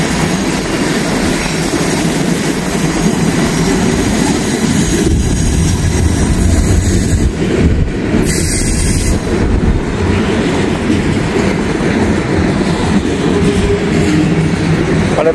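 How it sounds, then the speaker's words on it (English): A long freight train with boxcars rolls past nearby through farm country, a loud, steady rumble with rhythmic wheel clatter and faint squeal that holds unbroken from start to finish. "I'll show you guys the Old Depot here in a minute once this train passes."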